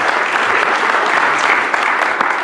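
Loud, dense applause from an audience cheering for a town mayor, continuous and close throughout.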